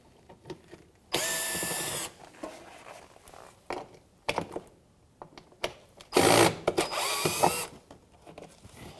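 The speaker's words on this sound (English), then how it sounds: "So we're going to take off this lower grill, bunch of Phillips screws. We're going to go ahead and take those out now." Power drill backing Phillips screws out of the front lower grille on a 2007-2013 Mitsubishi Outlander, two sustained whirring bursts with short taps and handling clatter between them, close and loud, no talking.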